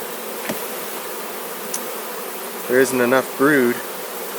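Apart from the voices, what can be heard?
bees buzzing in an open hive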